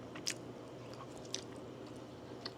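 Close chewing and biting on a crab imitation quesadilla made with flake-style crab-flavored seafood in a tortilla, a few soft crunchy bites at steady intervals over a quiet room hum.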